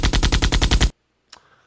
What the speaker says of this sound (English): Player shooting. This is the gunshot sound.